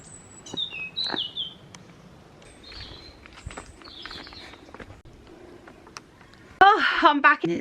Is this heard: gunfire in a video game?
no